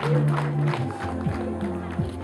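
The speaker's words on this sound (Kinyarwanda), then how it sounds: "mutanga amashyi menshi cyane n'impundu" Wedding guests at a Rwandan marriage ceremony clapping and ululating together, a dense crowd roar with wavering high trills over steady applause, with a voice speaking on top.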